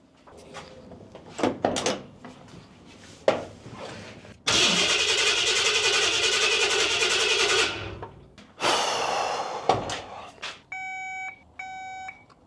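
A big-block engine cranks, catches and runs with a steady loud roar for several seconds, then revs again before cutting, followed by electronic beeps near the end.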